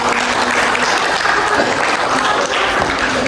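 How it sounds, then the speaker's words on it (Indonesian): Children at a primary school class event applaud together in a dense, steady burst of clapping that holds at full strength for the whole stretch, close and loud. "Tepuk tangan anak-anak buat Uti."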